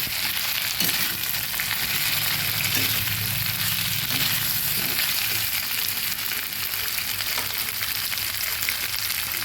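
Ginger and garlic frying in a pan, a steady close sizzle with constant bright hiss throughout and a few faint stirring scrapes, no talking.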